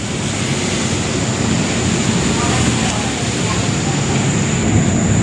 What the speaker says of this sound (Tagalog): Medyo hindi pa tumitila ang ulan.